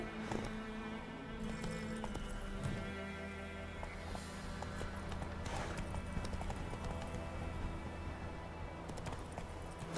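Hooves of the horse Roach clip-clop steadily in Witcher 3: Wild Hunt, with a regular trotting rhythm over an ambient game background, close and fairly quiet.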